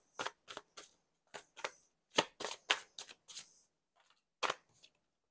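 Oracle cards being shuffled for a card reading, a run of crisp, close papery riffles and snaps in irregular bursts, with short pauses between and a final flick near the end.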